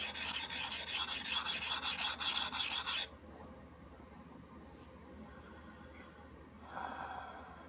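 A Hults Bruk axe is rubbed back and forth on a stone puck, giving a loud rhythmic rasping scrape for about three seconds before stopping, followed by quiet handling.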